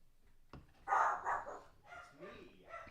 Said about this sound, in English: The kid ran through the room, and so they had to bark at him.